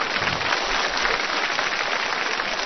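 Audience applause on a Chinese television talent-show stage, a dense, steady wash of clapping that fills the whole stretch at an even level, with no voices on top.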